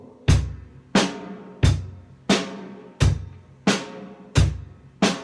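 A slow, steady drum beat: six evenly spaced hits, each ringing out before the next, played alone and up close.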